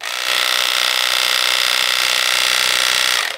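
A cordless animal hair clipper runs on speed 2, giving a steady, loud mechanical buzz with a fine ratcheting texture. It starts, holds an even pitch for about three seconds, then stops, with no talking.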